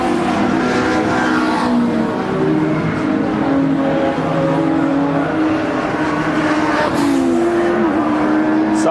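Touring cars roaring around Brands Hatch during a qualifying session, loud engines droning and revving continuously as cars pass, heard from high in the media centre with a voice faintly beneath.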